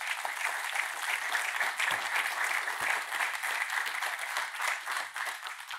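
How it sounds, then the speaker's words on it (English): A conference audience at a COP26 event applauds to welcome panellists, a sustained, even wash of clapping from many hands lasting several seconds, with no voices over it. "Please welcome all our panellists with a round of applause."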